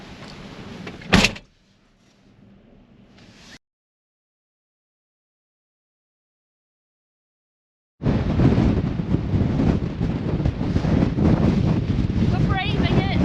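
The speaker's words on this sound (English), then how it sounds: "This wind, look at it here." Strong wind blows at sea, roaring and buffeting against the microphone as a loud, steady wash of noise. It comes after a sharp thump, a low rumble and a stretch of near silence.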